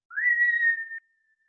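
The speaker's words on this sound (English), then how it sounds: "You're going to inhale through your mouth with a whistle." A single steady whistle made by inhaling through the mouth, a clear, slightly wavering tone held for almost a second before it stops abruptly, close and alone in otherwise silence.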